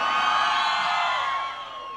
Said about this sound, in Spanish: ¡Un grito fuerte esta noche!